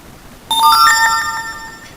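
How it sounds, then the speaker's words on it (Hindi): A push notification from Firebase Cloud Messaging arrives on an Android emulator running a Flutter app, sounding a bright, clear chime of several rising tones that ring out loudly and then fade, with no one talking. "तो यहाँ पर देखें नोटिफिकेशन आ चुकी है"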